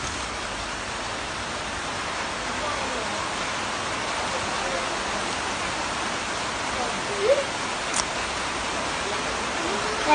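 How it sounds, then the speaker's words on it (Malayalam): Heavy rain falls outdoors as a steady, dense, hiss-like wash through the whole stretch, with a few brief louder taps near the end and no clear talk. "ഇവിടെ നല്ല മഴയുണ്ട്."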